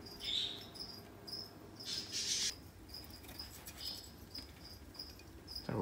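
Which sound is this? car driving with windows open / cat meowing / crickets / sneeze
crickets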